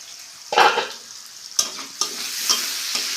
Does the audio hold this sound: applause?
no